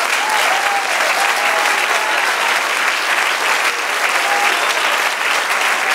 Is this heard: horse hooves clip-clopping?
no